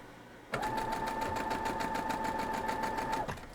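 A sewing machine runs steadily for about three seconds while stitching a quilt's half square triangle, a loud whirring hum with a fast even needle rhythm that starts abruptly and stops cleanly.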